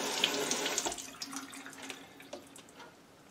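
Running tap water splashing into a sink as something is rinsed in a home kitchen, a soft steady flow that is close and fairly quiet with no talk.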